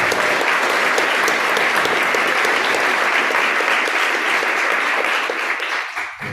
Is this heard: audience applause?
yes